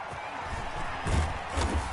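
Home crowd at a Jaguars versus Chiefs NFL football game, a steady distant roar swelling into two short loud bursts of cheering with low thumps.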